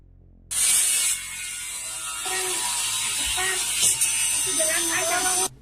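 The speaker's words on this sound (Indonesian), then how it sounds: "Dilengkapi dengan topeng las dan gerenda, Clyde pun memulai eksekusi mengerikan itu." An angle grinder whines loudly and steadily for about five seconds in a film scene where a man wearing a welding mask cuts, with a faint voice underneath.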